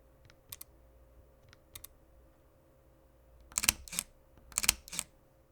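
Camera shutters fire one after another: a Fujifilm X100VI leaf shutter gives a few faint, soft ticks, then a Leica M10 gives several louder, sharper double clicks in quick pairs, close up and alone in a quiet room.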